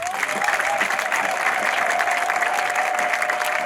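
Steady, dense applause from a church congregation during a worship service, loud and continuous throughout, with a sustained tone ringing underneath.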